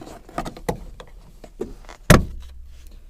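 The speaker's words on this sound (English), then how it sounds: "I'm just going to try to pull that off" A car headliner trim piece pried off its clips with a handful of light plastic clicks and taps, then one sharp loud snap as it pops free, followed by a low rumble.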